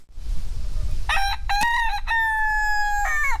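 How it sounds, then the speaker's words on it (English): A small rooster in a tropical backyard vegetable garden gives one loud, close crow with a sharp start, a long drawn-out middle and a clipped end, with no voices over it. "that little nasty rooster, Nasi Lamac, hey?"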